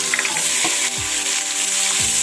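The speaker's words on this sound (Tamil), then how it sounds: "வெங்காயம் கொஞ்சம் நல்லா பொரிக்கிட்டோம்" Chopped onions fry and sizzle steadily in a pan of hot oil while prawn biryani is being prepared, with a dense hiss, soft crackles and a few scraping stir strokes.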